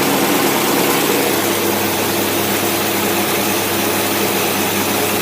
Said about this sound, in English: We'll turn the fan on and make it a little more noise.